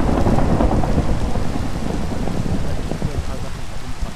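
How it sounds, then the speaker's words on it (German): Steady rain and rumbling thunder in the Minecraft video game at night, a continuous loud downpour with low rolling thunder throughout. "Ist hier draußen, regnet es wieder."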